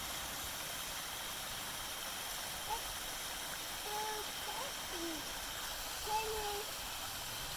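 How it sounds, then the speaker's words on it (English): A waterfall pouring into a spring-fed stream on a hike makes a steady, broad rushing hiss, with faint brief voices or calls drifting over it now and then. "I've got some videos for you of the waterfalls coming up"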